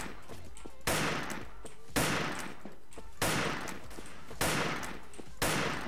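A PUBG-style shooter fires in a regular volley, five sharp, loud shots about a second apart, each with a rolling tail, heard alone without talk.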